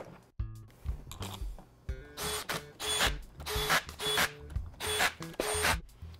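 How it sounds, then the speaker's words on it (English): Bolts being threaded back into the bonnet cover of a pneumatic solenoid valve, a series of close, fairly quiet metallic ratcheting and clicking bursts in an uneven rhythm. "And we'll thread these bolts back in."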